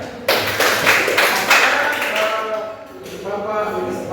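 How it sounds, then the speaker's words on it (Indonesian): Classroom of students clapping together, a burst of brisk applause that rises quickly, holds for a few seconds and then thins out into scattered claps and background voices. "Tepuk tangan."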